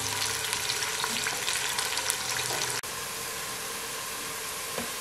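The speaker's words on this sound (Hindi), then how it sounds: "दो मीडियम साइज के प्याज मैंने ऑयल में ऐड कर दिए हैं। इन्हें फ्राई कर लेते हैं।" Two medium onions frying in oil, a steady close sizzle and crackle that runs throughout, briefly cutting out for an instant midway before resuming.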